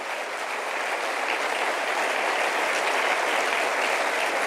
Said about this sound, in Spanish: Eso merece un aplauso para el Señor